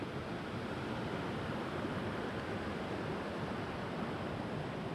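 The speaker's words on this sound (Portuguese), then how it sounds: "Essa aqui então é a parte de baixo da cachoeira já, ó. Aqui já segue o rio." River flowing just below a 40-metre waterfall, a steady, broad rushing roar of water that fills the whole moment evenly, close and constant with no voices.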